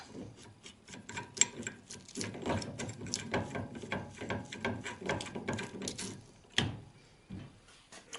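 A 26 mm nut is run down onto a front steering ball joint with a ratchet, making close, repeated clicking bursts with short pauses between strokes.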